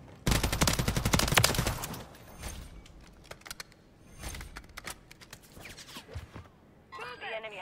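Rapid bursts of video game pistol gunfire crackle loudly near the start, then thin into scattered single shots with a few keyboard-like clicks, and a voice speaks briefly at the end.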